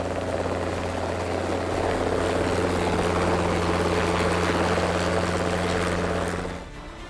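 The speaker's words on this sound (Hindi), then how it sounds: "इसके बाद सारंग हेलीकॉप्टरों की इस टीम ने जयपुर को अपने अनोखे अंदाज में सलाम किया।" Sarang team helicopters of the Indian Air Force flying over Jaipur at an air show, a loud continuous rotor and engine roar with steady low tones that cuts off abruptly near the end.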